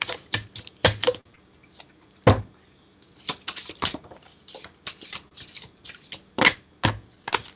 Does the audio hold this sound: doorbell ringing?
no